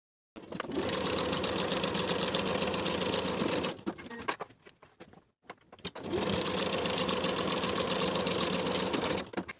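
A sewing machine stitches the shoulder seams of a lined coat at a 5/8 inch allowance, running in two steady, fairly close bursts with a short pause between them.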